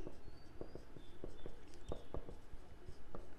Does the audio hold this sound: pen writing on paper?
yes